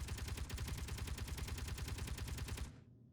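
Rapid automatic gunfire in Space Engineers rattles in a steady, dense burst of evenly spaced shots, loud and continuous for nearly three seconds before cutting off abruptly.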